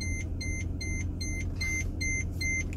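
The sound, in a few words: warning beeping during Mercedes diagnostic scan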